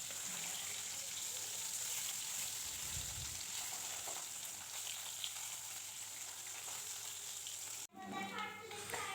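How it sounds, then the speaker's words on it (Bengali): Puti fish frying in hot oil in a pan: a steady, dense sizzle that continues close and even, then shifts abruptly near the end. "এইভাবে বাকি মাছগুলোও কিন্তু ভাজা করে নেব"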